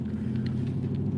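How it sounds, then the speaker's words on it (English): Semi truck passing on a road, a brief low rumbling drone of a heavy vehicle at moderate distance, steady throughout without talk. "there's a semi truck going down this road, man. Big truck."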